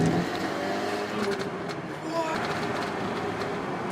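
A stage 2+ Audi S3 with antilag pulls hard through the gears, its loud engine roar and turbo whoosh rising and surging continuously at close range, with excited voices talking over it.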